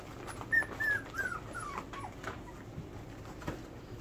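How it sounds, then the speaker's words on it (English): Four-week-old F3 miniature Bordoodle puppies whimpering, a few thin high whines and yips early on, then quieter whimpers fading into soft room noise. "And these are F3 miniature Bordoodle puppies,"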